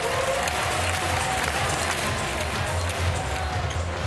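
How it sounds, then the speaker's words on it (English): A volleyball arena crowd at a Canada versus USA Volleyball Nations League match claps and cheers in a steady, dense roar that fills the whole moment, with bouncing thumps mixed in. "Applauding the effort for sure."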